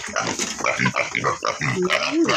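Pig grunting and oinking close by in a rapid, continuous run of rough, throaty snorts and squeals, loud and without pause, with faint human voices mixed in.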